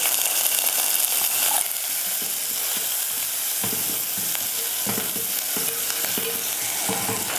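Shallots chopped fine, green chillies, curry leaves and asafoetida sauté in hot oil for rasam, a steady close sizzle with repeated scraping stirs of a ladle against the pan, no voices.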